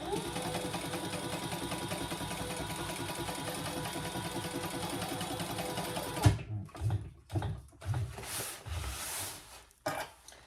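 A sewing machine stitches a tote handbag in one long steady run of fast, even needle whir, close and loud, then stops abruptly, followed by scattered knocks and handling sounds.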